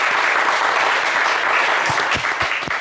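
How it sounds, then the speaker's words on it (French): A studio audience on a French evening game show claps steadily in a dense, continuous wash of applause, with a few louder nearby claps toward the end and no talk. "Allez Serge, on va vous applaudir hein"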